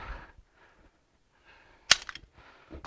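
A single sharp report from a Star BM pistol at a range, one distant-sounding crack standing out against faint background noise and quiet muffled sounds.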